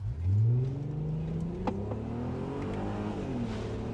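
A rescued Audi TT, saved from a scrapyard, revs its engine toward 7,000 RPM with a rising, droning whine that climbs steadily, heard close and fairly loud with no voices.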